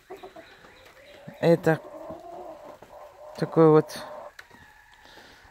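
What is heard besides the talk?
roosters clucking and crowing in a yard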